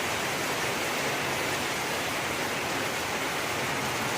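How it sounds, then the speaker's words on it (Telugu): Heavy rain pours steadily in Bangalore, a dense continuous hiss that stays loud and even throughout with no voices or other sounds breaking through. "బెంగళూరులో డైలీ వానే ఇది జోరుగా పడుతుందండి"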